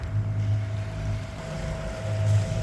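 A sailboat under sail with its engine still running, a steady low motor drone with a faint tonal hum, plus wind across the microphone and water wash, continuous and fairly close.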